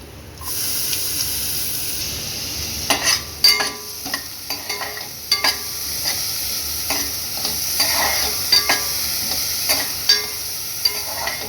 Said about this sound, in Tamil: வெங்காயம் சேர்த்துட்டு நம்ம இந்த மாதிரி ஒரு நிமிஷம் இதை ஃப்ரை பண்ணிக்கலாம்